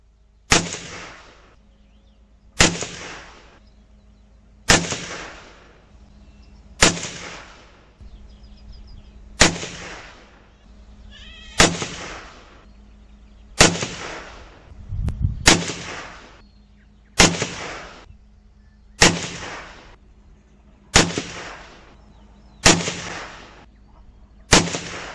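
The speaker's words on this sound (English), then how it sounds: "Roughly sighting in a rifle while I'm testing the ammo." Rifle shots at a shooting range while the rifle is sighted in and ammunition tested ring out as twelve sharp, loud reports spaced about two seconds apart, each with a brief echoing tail.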